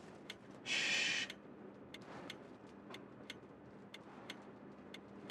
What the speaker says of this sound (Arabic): ده صوت الساعة.